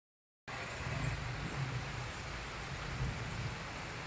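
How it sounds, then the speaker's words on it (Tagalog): Heavy rain pours steadily in Calamba city, a dense continuous roar that starts abruptly and holds loud throughout, with a low rumble beneath. "Inabutan pa ng ulan, nasa Siyudad de Calamba na nga."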